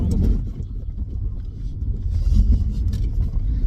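Interior rumble of an Alfa Romeo 159 on the move, a steady low engine and road drone with tyre noise, constant and fairly loud with no talking.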